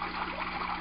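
A small 5-watt aquarium pump in an aquaponics tank churns the water surface, giving a brief, faint, steady trickling and bubbling wash with no voices.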